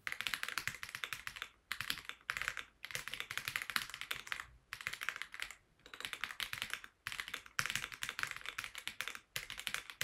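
Fast, continuous typing on a mechanical keyboard, dense clacky keystrokes in long bursts separated by brief pauses, close and clear with no speech.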